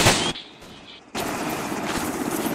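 Enemy gunfire in a first-person shooter video game, a loud burst of shots up front, a quieter gap, then a sustained dense stretch of rapid firing close by.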